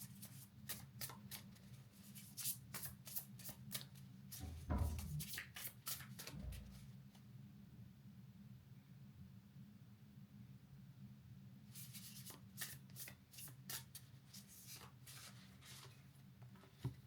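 Tarot cards being shuffled by hand, giving soft, papery riffling bursts in quick clusters. The bursts come early and again near the end, with a quieter stretch in between, and a low steady hum runs underneath throughout.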